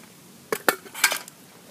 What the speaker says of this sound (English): Good old kettle